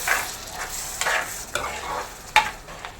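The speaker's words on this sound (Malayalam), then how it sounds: "നല്ലപോലെ ഒന്ന് മിക്സ് ചെയ്ത് കൊടുക്കണം" A spoon stirs mackerel masala fry in a hot pan after tamarind juice is added, giving a steady close sizzle broken by several scraping strokes.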